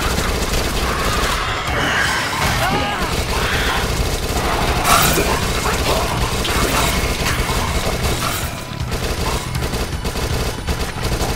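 SMG fire in Dead Nation, rapid bursts of automatic gunfire mixed with explosions and mechanical clatter, dense and loud throughout with no talking.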